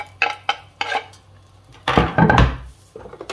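Food being stirred in a pan: a few sharp utensil taps and knocks against the pan, then a louder burst of clattering, scraping stirring, and a final softer knock, with no talk.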